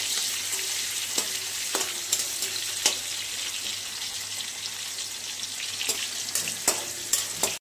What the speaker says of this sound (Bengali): আলু ভেজে নেবো।